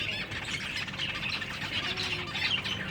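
Pet finches chirp and squawk continuously in a busy chatter, close and fairly loud, with overlapping calls and scuffling throughout.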